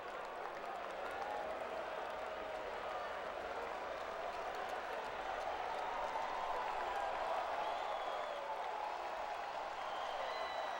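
A thinned-out baseball crowd at Fenway Park during a Rays–Red Sox playoff game makes a faint, distant murmur with scattered clapping and swelling cheers, heard under a play-by-play commentator.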